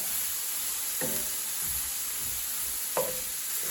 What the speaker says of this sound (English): This is stir frying, so everything's real quick at a high heat